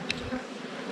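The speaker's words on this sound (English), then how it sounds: "There's still quite a bit of bees in here, even after that swarm." A brief, close buzz of honey bees in an open hive after a swarm, a soft droning hum with a sharper high whine at the start, no voices.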